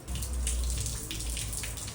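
Water runs steadily from a fountain on Mallorca, a continuous splashing hiss heard close and alone for the full two seconds.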